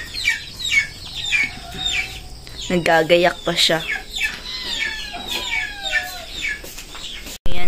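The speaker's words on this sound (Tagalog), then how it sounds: "Pinapakain niya na muna yung mga manok." Chickens cluck and chirp busily while being fed by their owner at home, near and continuous, with a short burst of louder calls partway through and a person speaking in the clip.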